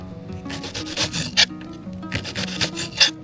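A kitchen knife slicing an onion on a cutting board: close, rhythmic rasping strokes repeating over about three seconds, with soft music playing underneath.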